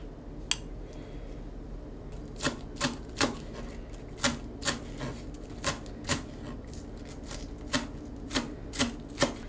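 Garlic chopped with a knife on a board, a series of crisp close knocks, scattered at first and then falling into a fairly regular rhythm, with no talk over them.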